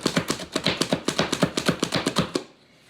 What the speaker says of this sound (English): just going to kind of chop up my celery